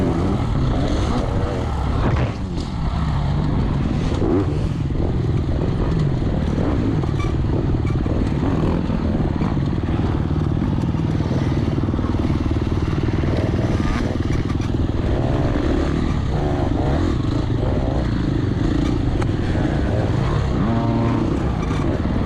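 A four-stroke dirt bike races at a motocross event, its engine roaring loud and close throughout with steady, unbroken revving and little variation.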